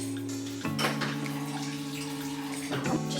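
Water pours steadily into a container for oatmeal, a continuous splashing stream with a couple of clinking knocks, close and fairly loud.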